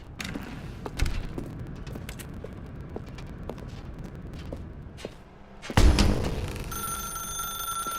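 A telephone in The Stanley Parable game starts ringing near the end, a steady electronic trill that follows a scatter of thumps and footsteps in a quiet room.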